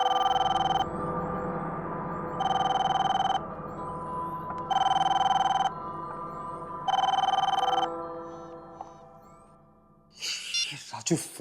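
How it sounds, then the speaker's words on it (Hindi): A telephone rings unanswered in a beauty parlour, four long repeated bursts of bell-like ringing with short gaps, fairly close, followed by a brief rustle near the end. "फोन क्यों नहीं उठा रहा है?"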